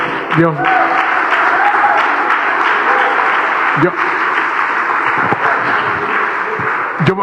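A church congregation applauds for the Lord with loud, continuous clapping, and voices call out over it.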